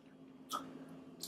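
Close, quiet crunchy chewing of kinpira gobo, stir-fried burdock root, with two short bursts of crunching bites in a brief quiet moment.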